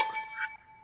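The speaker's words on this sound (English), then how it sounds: "we're going to hear a bell" A single bright bell chimes at a comedy improv show, giving a quick ding that rings briefly and fades out within half a second.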